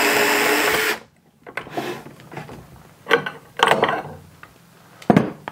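A DEWALT Impact Connect copper pipe cutter driven by an impact driver whirs loudly for about a second while cutting copper pipe, then falls quiet, followed by several scattered clicks and clunks of handling.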